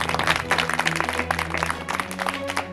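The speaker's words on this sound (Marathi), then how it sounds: "आपण जोरदार टाळ्याने स्वागत करूया" Applause from a crowd at a welcoming ceremony at a government office in Amravati, steady mixed clapping throughout with faint voices underneath.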